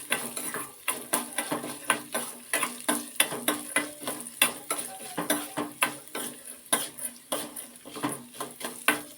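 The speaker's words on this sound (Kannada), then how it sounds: "ಇದಕ್ಕೆ ನಾವು ಚಕ್ಕೆ ಹಾಕೋಣ ಏಲಕ್ಕಿ ಲವಂಗ ಹಾಕ್ಕೊಂಡಿದ್ದೀನಿ ಮೆಣಸು ಇವು ಸ್ವಲ್ಪ ಹುರಿಲಿ" Cinnamon, cardamom, cloves and pepper roasting in a pan, with rapid repeated scraping and clinking strokes of a spoon stirring the spices against the metal, close and steady over a faint sizzle.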